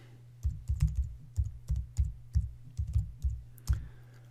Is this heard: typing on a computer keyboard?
yes